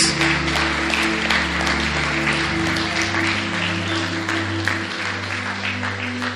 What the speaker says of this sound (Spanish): aplaudían el nombre de Jesús